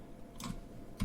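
Keys on a computer keyboard are struck during a coding session in Dart, two short soft bursts of clicks close by in a quiet room.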